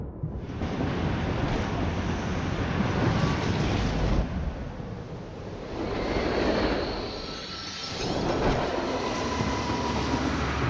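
A train crashes off its tracks in Genshin Impact, with loud, sustained rumbling and screeching metal that swells and dips in surges across the clip.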